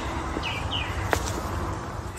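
Birds in a New Zealand garden give a few short, faint chirps and tweets over quiet outdoor ambience, with a brief sharp call near the middle.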